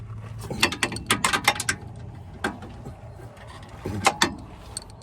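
Quick ratchet clicks come in short bursts while bolts on a car's 22mm Whiteline sway bar are tightened, the ratcheting close and sharp between quieter pauses in a garage.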